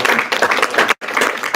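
A university alumni event audience breaks into applause, dense clapping close and loud, with a brief gap near the middle before it resumes.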